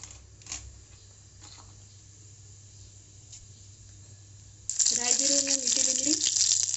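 Mustard seeds and cumin hit hot oil for tempering, and after a quiet, low hiss a loud, dense sizzle bursts in and keeps going, with a voice talking over it.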